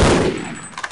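Gunfire in Half-Life: Opposing Force: a loud, close burst with a sharp attack that decays over a fraction of a second, followed by a few fainter clicks.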